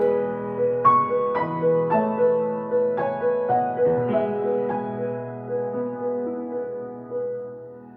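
A solo piano plays Oswald Russell's Jamaican Dance No. 2, with repeated struck chords and rolled chords in a lilting, dance-like rhythm, close and clear with no talking.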